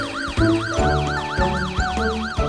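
Rapid rising and falling siren cycles blare close by, a police car's wail layered over a deep idling motor with periodic thumps.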